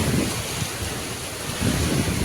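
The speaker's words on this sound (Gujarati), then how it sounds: "અડધા પુલ ઉપર પાણી છે" Loud, continuous roar of floodwater rushing over a bridge during continuous storm rain, with low gusty rumbles as wind buffets the microphone.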